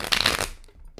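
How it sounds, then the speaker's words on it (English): Tarot cards being shuffled by hand, a dense papery riffle for about half a second, then a quiet pause and a brief soft card tap near the end. "cards don't want to shuffle"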